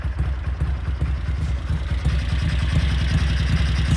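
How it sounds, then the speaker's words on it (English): A warmed-up bevel-drive motorcycle engine idling steadily just above 1200 RPM with a low, even pulsing rumble and light mechanical clatter, close and continuous throughout. "It's warmed up, idling a little above 1200 RPM."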